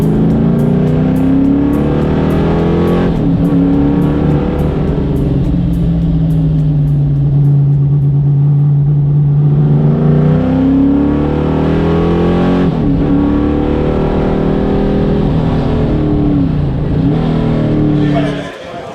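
Shelby Cobra Daytona race car recorded onboard on a track at a historic racing event, its engine roaring loud and close throughout with rising and falling revs through gear changes.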